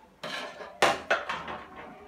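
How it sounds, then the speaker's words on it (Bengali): A lid lifted off a pot of biryani, giving a few sharp metallic clanks and scrapes in quick succession, close and clear with nothing else around them. "চল্লিশ মিনিট পরে এবার আমি ঢাকাটা খুলে দেখছি।"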